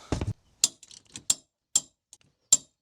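Sharp metallic clicks from a torque wrench reaching setting on half-inch U-bolt flange nuts of a Dexter camper trailer axle, five distinct clicks spaced about half a second apart, close and clear after a brief low thump.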